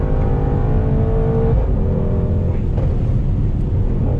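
Mercedes-AMG GT 63 S 4-Door pulling a hot lap, its engine droning loud and close from inside the cabin, the pitch rising and falling as it revs through the run, with no voices.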